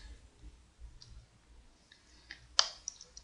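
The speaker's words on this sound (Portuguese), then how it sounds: "Vou clicar em opções." A computer mouse click on an Options button, one sharp near click standing out against a quiet room, with a few faint ticks around it.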